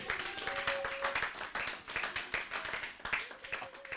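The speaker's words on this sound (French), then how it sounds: "Acclamez très fort pour la gloire de Dieu." Church congregation clapping in a dense, steady burst of applause with scattered cheers and voices, close and lively for the full stretch; a sustained tone rises briefly above the crowd.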